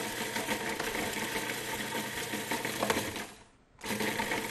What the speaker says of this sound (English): I put them into my food processor.